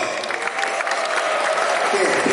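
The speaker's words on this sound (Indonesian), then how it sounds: "Tepuk tangan untuk kelas 10." A crowd claps steadily and enthusiastically at a high school awards ceremony, dense applause filling the room at a consistent loudness throughout.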